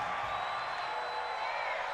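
A home stadium crowd at an NFL football game between the Carolina Panthers and Detroit Lions roars as a dense, steady wall of noise, loud and sustained with no breaks.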